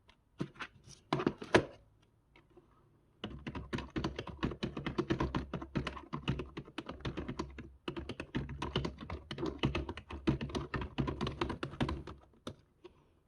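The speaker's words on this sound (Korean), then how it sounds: "이게 지금 예전께 키보드 키 터치감이 끊는 게 좋습니다" Typing on a cheap no-brand wireless keyboard, rapid light clicky keystrokes in dense bursts with a short pause early on, close and fairly loud in a quiet room.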